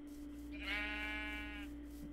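A sheep in Minecraft gives a single clear bleat lasting about a second, quiet but distinct over a faint steady background hum, with no talking.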